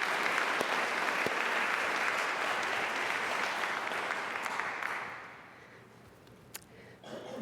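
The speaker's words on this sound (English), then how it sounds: "Let's give them both a round of applause." An audience at a ceremony celebrating second chances claps in sustained applause that fades out over the last couple of seconds, leaving a few scattered claps.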